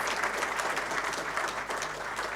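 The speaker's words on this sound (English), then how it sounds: "Calls for a huge round of applause." A book-launch audience claps steadily, dense and sustained applause filling the room with no voices standing out.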